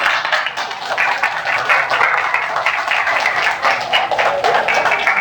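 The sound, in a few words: audience clapping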